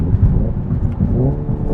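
A Hyundai IONIQ 5 N electric car accelerates with simulated gear shifts, producing a steady, loud, low synthetic engine drone heard from inside the cabin.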